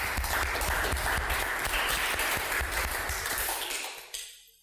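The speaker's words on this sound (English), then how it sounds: "Can you please give a round of applause to our housemates?" An audience at a reality TV show applauds loudly and steadily, a dense sound of clapping that fades out near the end.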